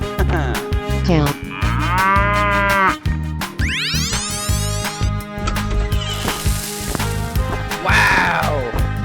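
Cartoonish cow moos from a 3D animal slide game ring out repeatedly over busy game music and effects, with sweeping whoosh sounds between calls.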